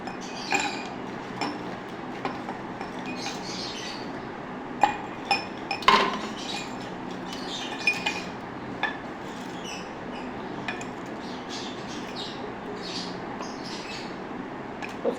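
Ice cubes clink into two glasses while bael sherbet is being made, giving a handful of light, scattered glassy knocks and taps over a low kitchen hum, with no talking.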